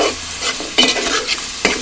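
Food frying in a pan until browned for a Godavari-style tamarind fish curry, a steady close sizzle with stirring scrapes at brief intervals.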